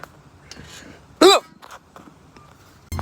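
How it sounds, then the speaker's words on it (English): A cartoon cat lets out a single loud, squeaky hiccup, abrupt and close, set among quieter background sounds and a final louder burst. "I cannot stop these hiccups."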